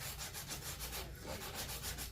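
Close, rhythmic back-and-forth rasp of sandpaper on wood, strokes repeating at an even, quick pace.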